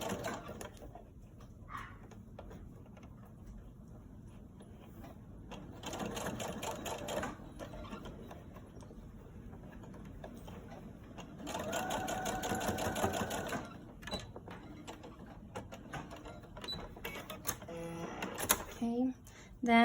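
A sewing machine runs straight stitches on a fabric filter-pocket mask in several bursts of rapid mechanical chatter separated by quieter gaps, with faint handling noises and some talking.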